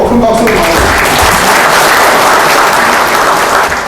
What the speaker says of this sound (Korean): 박수로 큰 박수로